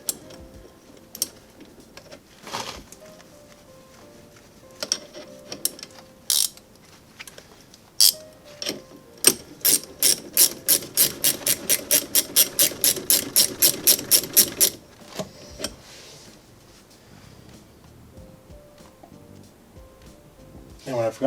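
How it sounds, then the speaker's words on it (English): A ratchet tightens 14 mm bolts on a rear brake assembly, starting with scattered clicks and then a fast, even run of sharp ratcheting clicks before stopping, with a person talking. "These are 14 millimeters, so tighten them up."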